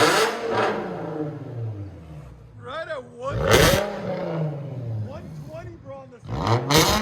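A 2008 Infiniti G35x with a 3.5L V6 and straight-piped dual exhaust roars in two loud, short revs, mostly under close, excited talk between people standing near the car.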